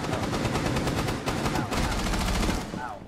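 Sustained automatic gunfire during a close-quarters firefight in Rainbow Six Siege, rapid loud bursts rattling almost continuously for three seconds before tapering off, with no voices.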